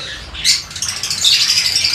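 A rosy-faced lovebird squawks in a couple of sharp, bright bursts close by, with faint rustling and shuffling as it moves about its cage.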